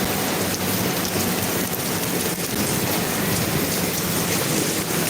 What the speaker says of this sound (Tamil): சரி போதும் மழை